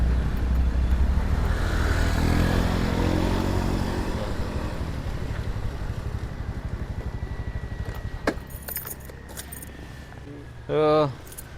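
Heavy traffic jam of cars and motorcycles crawling along the Gunung Gumitir mountain road through the Alas Gumitir forest: a steady, dense engine rumble that thins out gradually, with someone talking over it and a brief horn-like tone near the end.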